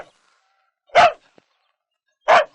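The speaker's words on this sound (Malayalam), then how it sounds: "ജോസൂട്ടിയാണെ പട്ടി ഇത്ര കുരയ്ക്കത്തില്ലല്ലോ." A dog barks twice at night, loud and close, about a second apart, with near silence around and between the barks.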